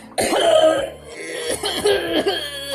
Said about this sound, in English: I just had to keep coughing the whole time